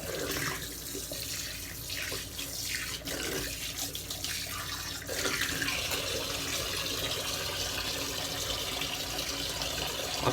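Close, steady running water pours from a tap into a sink while someone rinses off after a shave, a continuous splashing hiss with no talk.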